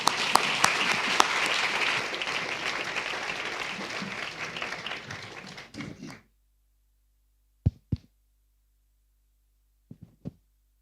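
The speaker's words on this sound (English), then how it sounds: "Please join me in a big round of applause for our last panelist." An audience at a Brussels conference on Palestine claps for a panelist, a full, busy round of applause that fades and stops abruptly at about six seconds, followed by a few isolated thumps and clicks in near silence.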